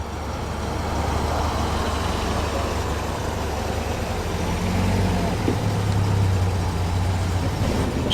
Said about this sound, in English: There's a little Spitfire, bright yellow Spitfire 1500, following the Morgan and the brace of MGBs.